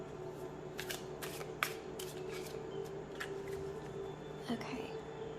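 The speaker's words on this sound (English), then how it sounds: "I'm gonna keep shuffling until it feels right to stop" Tarot cards being shuffled by hand in repeated quick riffling bursts, with soft crisp card flutters and light handling noises over a low steady room hum.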